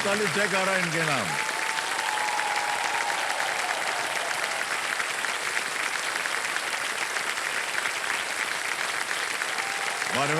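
A studio audience on the Kaun Banega Crorepati game show breaks into sustained, dense applause, loud and steady throughout, with a brief musical sting at the start and end.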